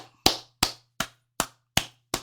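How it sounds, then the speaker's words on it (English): One person claps their hands slowly and deliberately, six sharp close claps spaced evenly about a third of a second apart over a faint low hum. "I need to clap it up for them heroes."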